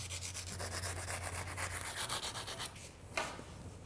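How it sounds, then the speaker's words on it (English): Emery cloth or sandpaper rubs back and forth over the cut edges of a bicycle handlebar, a steady close scratchy rasp with a short pause near the end. "some emery or sandpaper, good for the cleanup at the end. Take those sharp, any sharp edges off."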